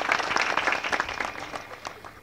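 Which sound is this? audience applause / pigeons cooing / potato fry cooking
audience applause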